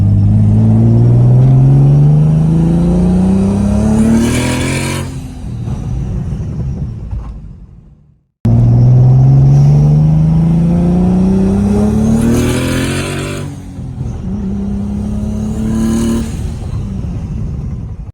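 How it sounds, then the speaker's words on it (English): Turbocharged BMW E36 car in two wide-open-throttle pulls, each a loud close engine note rising steadily in pitch through the gear, then cutting off with a whoosh as the revs drop. "So here's those wide open throttle pulls"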